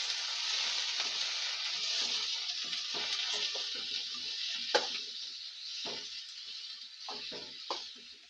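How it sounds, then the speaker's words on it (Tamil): Ivy gourd (kovakkai) pieces sauté in hot oil in a pan, giving a steady close sizzle with occasional scraping stir strokes and soft clacks throughout. "இப்போ கோவக்காவை இதில் கொட்டி வணக்க போகிறோம்"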